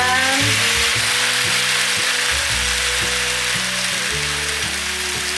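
Cabbage and green beans stir-fried over medium-low heat in a pan, a steady loud sizzle running throughout alone, with a low repeating tonal hum beneath.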